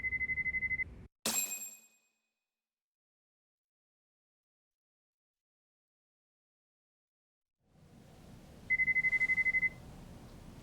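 A phone rings in short electronic trills in the video game Lost Judgment, once near the start and again later, with a sharp clatter and then near silence in between.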